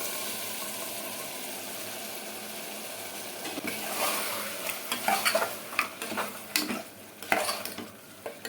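Tomatoes sauté in a pan for a mutton curry with drumsticks, with a soft steady sizzle and then a run of scraping stirs and clinks from a spoon, all fairly quiet and close.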